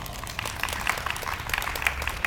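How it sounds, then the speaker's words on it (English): Scattered applause from an audience at a California financial literacy press conference, a thin spread of claps that holds steady for a couple of seconds at moderate level with no talk over it. "Let's give him a round of applause."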